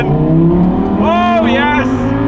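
Lamborghini Performante Spyder engine revving loudly, a sustained roar that climbs in rapid rising sweeps near the middle before easing back, heard close and without pauses.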